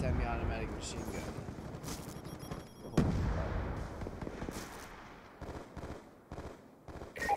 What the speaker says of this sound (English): You can tell that I do not use sniper rifles very often because I shoot it like it's a machine gun.